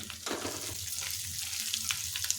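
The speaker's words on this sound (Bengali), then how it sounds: "আদা কাঁচা লঙ্কা বাটাটা একটু ভেজে নেব যতক্ষণ না আদার কাঁচা গন্ধটা যায়" Ginger and green chili paste fries with turmeric in hot oil over low heat, giving a steady close sizzle with light stirring scrapes throughout and no voices.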